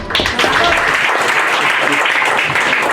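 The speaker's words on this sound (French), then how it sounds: "on applaudit encore une fois la candidate numéro 8" An audience at a Miss and Mister pageant applauds a contestant, a full, steady round of clapping that holds loudly throughout with some crowd voices underneath.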